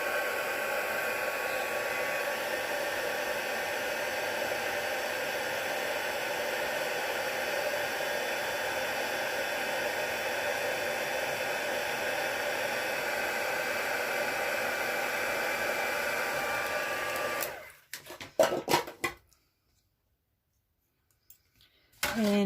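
A craft heat tool blows hot air over a handmade stamped card, a steady loud broadband whoosh running continuously for most of the stretch, then cutting off abruptly into near silence with a few clicks.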